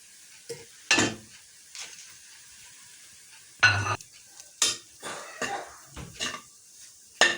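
Scraping and clinking of a spoon mixing pepper, salt and coriander in a bowl, several irregular strokes at close range with quiet pauses between them.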